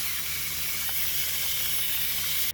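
Meatballs with garlic sear in an Instant Pot for Salisbury steak, giving a steady, even sizzling hiss close by with no talking. It cuts off abruptly at the end.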